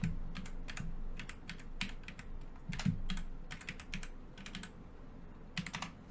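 Rapid keystrokes on an unfamiliar computer keyboard, close and fairly loud, in short irregular bursts with brief pauses, no talking.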